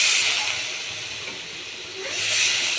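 Water splashes onto frying spices in a pan, bursting into loud hissing steam that dips briefly and then swells again, close and without voices.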